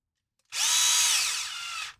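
A power drill runs for about one and a half seconds, driving screws into a molded RC crawler part, loud and close, with a steady whine that sags slightly as it bites, then stops abruptly.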